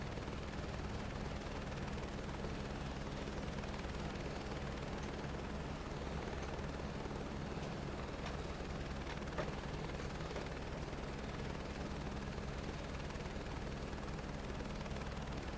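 Simulated helicopter hovering while taxiing in Microsoft Flight Simulator, a steady droning rotor and engine roar holding constant and fairly loud throughout, with no talking.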